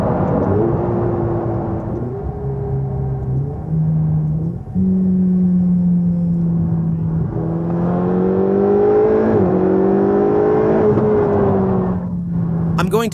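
A Ferrari 488 engine revving through several accelerations from inside the car, its pitch climbing and dropping in repeated pulls, loud and close with a brief lift-off between runs.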